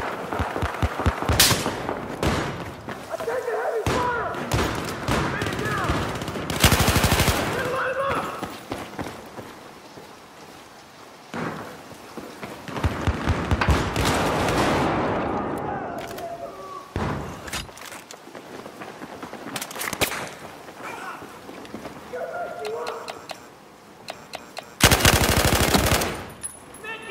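Heavy automatic gunfire in a video game, loud bursts of machine-gun fire and shots coming in repeated waves over about half a minute, with slams and scattered battle noise between volleys.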